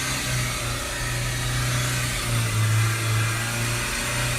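A Renault Trafic 1.6 diesel van engine, with a glow plug preheating fault and a clogged particle filter, is held at a raised, fairly steady 3000 rpm drone, its pitch wavering slightly as the revs drift.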